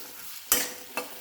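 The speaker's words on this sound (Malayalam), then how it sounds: "സവോള നല്ലതുപോലെ ഒരു ഗോൾഡ് കളറാവുന്നത് വരെ ഇളക്കിക്കൊണ്ടിരിക്കണം." Onions stirred and fried in a pan until golden for a fish fry curry, with a soft steady sizzle under two short scraping stirs of the spoon, close and alone.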